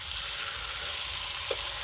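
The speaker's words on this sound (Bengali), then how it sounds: "এবার ভেজে রাখা আলুগুলো দিয়ে একটু কষা করে নেব" Fried potatoes being sautéed with spiced chicken in a pan make a steady, close sizzle with no gaps. A brief clink sounds near the end, and no one talks.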